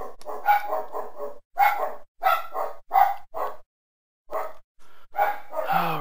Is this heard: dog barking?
yes